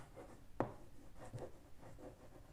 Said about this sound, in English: so we'll write area